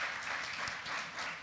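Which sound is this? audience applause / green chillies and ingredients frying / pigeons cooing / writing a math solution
audience applause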